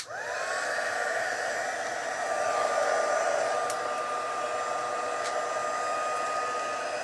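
Heat tool blowing hot air to melt wax on a Christmas candle, a steady loud whooshing whine with a rising tone at startup, running continuously without speech.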